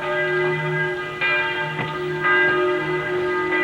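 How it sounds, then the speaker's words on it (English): A church bell rings out in several resonant strokes, each leaving a long humming tone that overlaps the next. "So the church bell."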